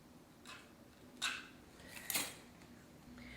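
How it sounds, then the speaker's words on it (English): A metal palette knife scrapes thin set mortar off the edges of smalti mosaic tiles, giving a few faint, quiet scraping strokes and light clinks spaced apart in a still room. "you'll want to use your palette knife to clean off the edges"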